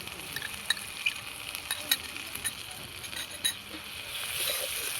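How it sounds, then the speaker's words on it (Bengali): Onions and ginger paste frying in a pan, with a low steady sizzle broken by light scraping and clinking of stirring, fairly quiet, no voices. "আমি একটু পেঁয়াজটা ভাজা ভাজা করে নেব"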